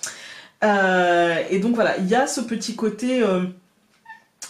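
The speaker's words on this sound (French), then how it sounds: "si vous entendez des petits bruits, c'est mon chat" A domestic cat makes small noises indoors, with a short, faint whine and a chirp near the end, set mostly under steady speech in French.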